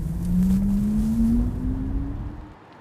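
A Sondors electric vehicle prototype drives along, its steady tonal motor whine slowly rising in pitch over low road and wind rumble, then fading out at the end.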